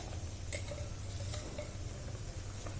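Satay padang simmering and being stirred in a Teflon pan, a steady close sizzle with the scrape of stirring through it and a few faint utensil taps, no talking.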